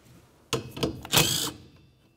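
15 mm wiper arm mounting nut on a 2010–2013 Ford Transit Connect being loosened with a tool, a short burst of metallic clicks and ratcheting, close and isolated.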